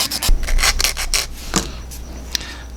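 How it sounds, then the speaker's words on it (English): Rasping strokes of a file and sanding stick shaping a plastic grille for a 1980s NASCAR Monte Carlo model car, a run of close, fairly loud scrapes followed by quieter scattered rubs, with no talking. "Just a lot of filing and fitting"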